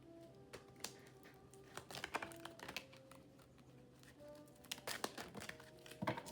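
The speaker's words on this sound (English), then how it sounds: "Plastic cards are so loud." Plastic tarot cards are shuffled close by, giving a rapid clicking and flicking clatter in uneven bursts throughout, with no talking.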